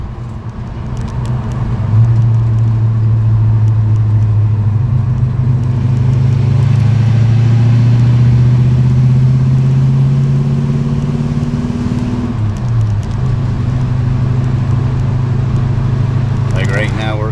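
A 1955 Chevy Bel Air cruises at about 50 mph in overdrive, its engine humming low and steady near 1800 rpm under continuous road and cabin rumble, with a slight shift in tone midway.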